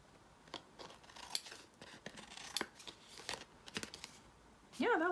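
Large scissors trim paper straight at a craft table, a series of separate crisp snips and rustles close to the mic, quiet, ending with a brief louder tonal sound.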